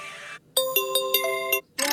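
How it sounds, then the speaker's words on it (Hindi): A phone ringtone previewed in a ringtone app: bright electronic melodic tones in short rhythmic bursts, loud and close, between brief stretches of other sound. "यहाँ पर बहुत सारे रिंगटोन आए रहेंगे"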